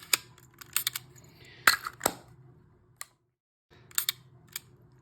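Chinon Bellami 35mm compact camera with its shutter firing: a handful of sharp, dry mechanical clicks close up, some in quick pairs, separated by short pauses and a brief near-silence, with no talking.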